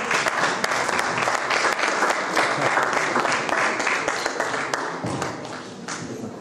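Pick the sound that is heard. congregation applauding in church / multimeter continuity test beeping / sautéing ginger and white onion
congregation applauding in church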